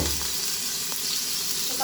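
Chopped tomatoes fry in oil in a hot pan, a loud continuous sizzle and hiss with a brief stirring scrape near the start, no voices.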